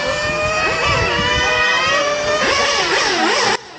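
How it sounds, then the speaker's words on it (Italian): Engine revving hard during break-in, climbing in pitch then easing as second gear engages and the throttle is released, loud and close with no talk. "tengo aperto e appena entra la seconda mollo subito il gas"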